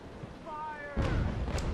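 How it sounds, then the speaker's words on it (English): Ship cannons firing a broadside during a Naval Action sea battle near Kingston Port Royal: a sudden loud, low rumbling blast that swells and sustains after a quieter stretch with faint tonal sounds. "4 cannons, fire!"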